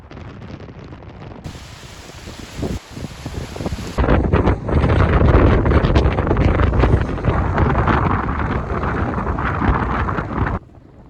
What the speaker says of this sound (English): Super strong wind.